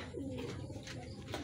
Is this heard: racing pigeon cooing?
yes